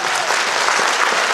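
An audience applauds at a Christmas variety show, with dense, even clapping from a large crowd filling the room.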